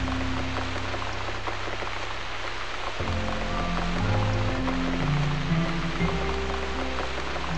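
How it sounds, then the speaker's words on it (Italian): Steady rain falls throughout in The Cat Lady video game, a constant hiss of drops with low music tones shifting underneath. "continua a piovere"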